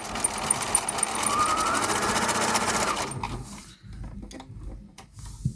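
A Husqvarna Prisma 940 sewing machine runs a wide stitch with a fast, steady mechanical whir and needle chatter for about three seconds, then stops, leaving quiet handling clicks.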